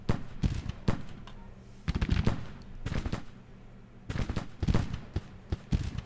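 Civil War musket volleys in the strategy game Grand Tactician: The Civil War, distant crackling bursts of massed rifle fire arriving in irregular clusters separated by quieter pauses, moderately faint.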